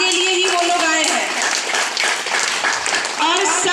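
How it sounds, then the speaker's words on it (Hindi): An audience of elderly residents at an old age home in Sarnath, Varanasi, claps for visiting doctors: brief, steady applause with a voice talking prominently over it. "सभी के लिए तालियां आप बजाएं"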